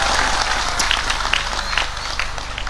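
A large crowd at a night religious gathering in a stadium in Kendal applauds, a dense, loud wash of clapping with scattered sharper claps standing out near the front.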